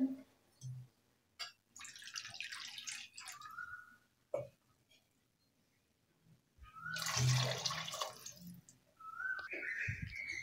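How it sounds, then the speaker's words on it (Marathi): Water poured from a small bowl onto colourful chopped vegetables in a pressure cooker for sambar, in two soft splashing pours separated by quiet gaps, with faint clinks between. "त्यामध्ये आता पाणी ॲड करायचं आहे, तर मी इथे या वाटीने पाणी ॲड करत आहे"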